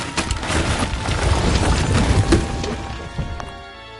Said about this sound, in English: That was a hell of an explosion.